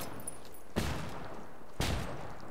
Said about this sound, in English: Tossing in a flashbang.